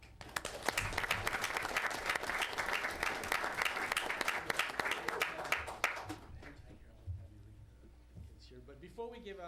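A crowd gives a vigorous round of applause at a city council meeting, dense and close for about six seconds before thinning into scattered claps and murmured voices.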